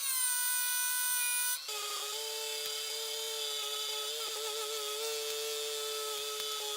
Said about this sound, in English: Time for the rotary grinder.